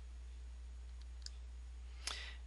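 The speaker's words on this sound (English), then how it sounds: "I'm going to double click it." A computer mouse clicks quietly during a digital scrapbooking software task, one faint click near the middle and a sharper double click toward the end over low steady hum, with no talking.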